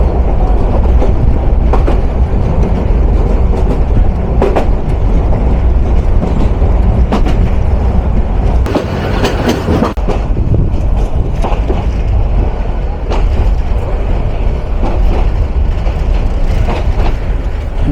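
Mohua commuter train on the Dhaka–Mohanganj line, heard from inside the locomotive: a loud, steady engine rumble with rail clatter and periodic clicks running throughout, swelling briefly midway, no voices.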